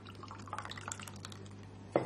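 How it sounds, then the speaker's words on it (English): Liquid poured into a little bowl in a kitchen, a soft trickling and dripping pour running quietly for about two seconds before a louder clatter at the end. "Pour it into this little bowl."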